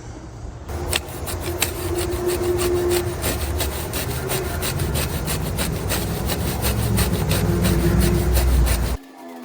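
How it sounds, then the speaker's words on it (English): A garden rake dragged by hand across a lawn to dethatch it gives a loud, steady scraping and raking rasp that runs almost unbroken for about eight seconds, with no talk, then stops abruptly. "my rake is pretty much the same width as what the machine cuts. So I'm just going to do one pull down this section."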